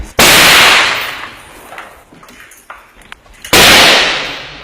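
Loud close gunfire in the Marawi battle against ISIS snipers: two sharp, booming shots, one at the start and another about three seconds later, each trailing into a long echoing decay, with scattered fainter pops and clangs between them.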